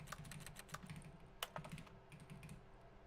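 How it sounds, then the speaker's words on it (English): Keyboard typing from The Stanley Parable, a run of light, irregular key clicks with a few sharper taps, moderately close and quiet over a low background hum, no voices. "I don't know why that still makes a keyboard sound"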